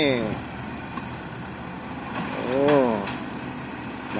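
A Kubota MU5702 tractor engine pushes steadily at an excavator work site alongside a Sumitomo SH130 and an XCMG 135, its mid-pitched drone running continuously under a voice and swelling briefly near the end.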